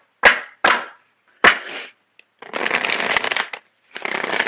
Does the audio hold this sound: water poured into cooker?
no